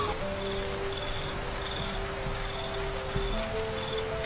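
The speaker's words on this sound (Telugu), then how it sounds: "చాలా వర్షం కురుస్తుంది" Heavy rain pours outside a house in a steady, dense hiss that stays even and moderately loud throughout, with faint insect-like tones threaded through it.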